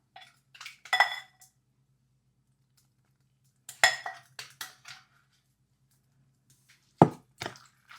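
Carrot and cucumber salad being tossed with dressing, heard as three separated bursts of clinking utensil and bowl contact, each a quick cluster of scrapes and taps with quiet gaps between.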